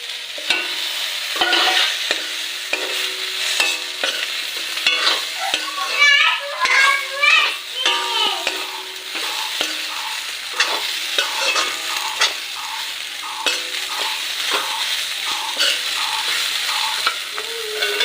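Soybeans and eggplant stirred and frying in a pan, with a steady sizzle under repeated scraping strokes of a utensil, close and fairly loud, with faint background voices.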